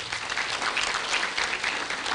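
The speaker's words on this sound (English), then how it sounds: "Can we give him a clap?" A brief, dense burst of audience clapping at an African women's project launch event, even and sustained with no pauses, with no speech over it.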